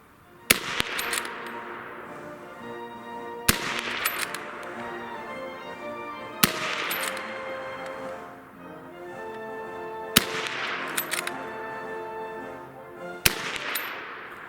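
A Mk I Lee Metford bolt-action rifle fires five sharp, loud shots spaced about three seconds apart, each followed by a ringing echo, with bolt-working sounds between the shots.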